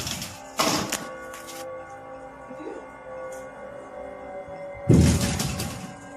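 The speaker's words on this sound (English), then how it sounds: "Phantom knocking at odd hours day and night." Knocking on door glass, two bursts of sharp rapping, one near the start and one near the end, with a quiet room in between.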